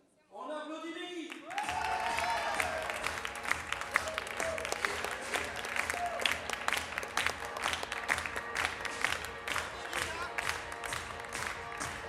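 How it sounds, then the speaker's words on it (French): Audience at a French slam poetry contest applauding coach Becky: after a brief voice and whistle-like tones at the start, a sustained wave of clapping with some cheering fills the room for about ten seconds. "On applaudit Becky."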